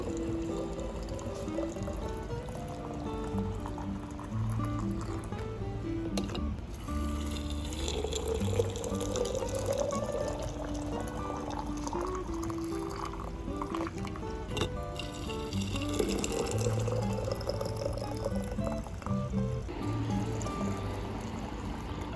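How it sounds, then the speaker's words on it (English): Boiling water poured steadily into canning jars, a continuous liquid fill with rising pitch as each jar fills, heard close and alone for the whole stretch. "we are going to fill these jars with boiling water, leaving 1 inch of headspace."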